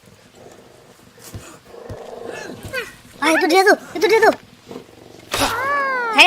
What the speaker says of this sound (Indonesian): Kayak ada suara harimau deh.